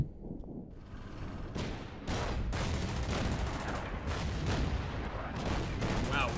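Artillery and small-arms gunfire in the Order of Battle wargame, a steady wash of distant blasts and crackling shots that builds after the first couple of seconds and continues without a break.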